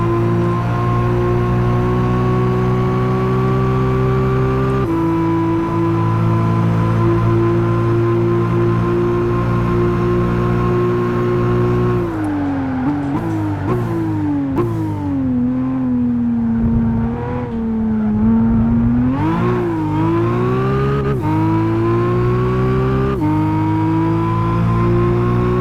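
Nissan Skyline ER34 in Gran Turismo 5 held at full throttle, its engine droning loud and continuous with pitch rising and dipping through gear changes and corners, steady throughout.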